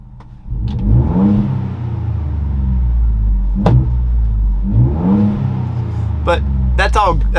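A Ford Bronco fitted with an AWE off-road exhaust idles nearby with a deep, steady rumble, swelling twice in brief rev-like surges before settling, with a few light clicks near the end.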